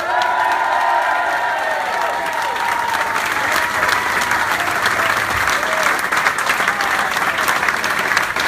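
Rock concert crowd applauding and cheering for the opening band, a dense, loud, continuous wash of clapping with whoops and shouts, close and sustained.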